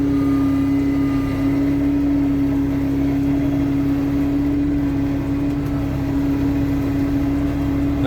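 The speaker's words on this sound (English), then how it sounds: "I am running it in high range, so the hydro at lower RPMs, it's a little bit louder" A new hydrostatic tractor running in high range at lower RPM drives steadily with a loud, constant low drone and a sustained hum, no pauses throughout.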